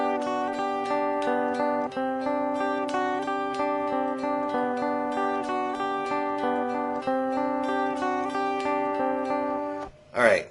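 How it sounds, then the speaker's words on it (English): Electric guitar lead line from the intro of a worship song, a steady stream of picked notes rocking back and forth in a repeating pattern, clear and sustained for about ten seconds, ending with a brief noisy scrape. "this is the sound that is used for the introduction and the first time the verse"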